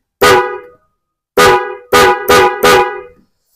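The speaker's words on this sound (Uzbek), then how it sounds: "signalni bosyapman. Mana ovozini eshitasizlar." A dual car horn sounds five loud honks, one long blast, a pause, then four quick bursts in a row, clear and close with nothing else around.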